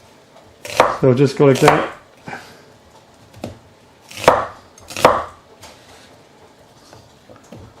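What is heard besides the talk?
chopping onions into large pieces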